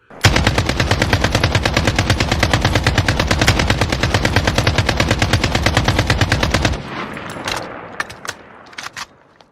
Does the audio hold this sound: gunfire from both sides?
yes